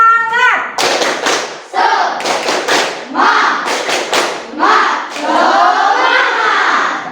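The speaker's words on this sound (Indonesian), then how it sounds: "Kita lakukan relaksasi sedikit ya dengan melakukan tepuk semangat." A primary school class in Indonesia does a rhythmic spirit-clapping routine, with sharp bursts of group claps in patterned sequences interleaved with children's chanting voices, close and lively.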